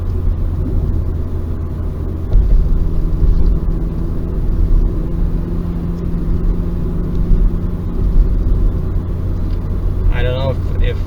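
Low steady engine rumble and road noise inside a moving Mazda 3, with a quiet muffler tone beneath the drone and a brief higher sound near the end.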